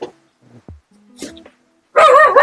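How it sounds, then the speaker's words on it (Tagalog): A guard dog barks loudly and close at the end, after a quiet stretch with faint scattered sounds; a sustained bark or howl-like bark fills the final half second. "May bantay po akong aso."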